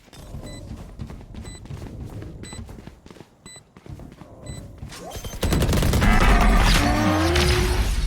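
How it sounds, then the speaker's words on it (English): Explosions and gunfire in a tactical shooter match after the spike is planted: sharp repeated shots with beeping alert tones, then a loud, sustained explosive roar with debris and rumble filling the last few seconds. "I love explosions."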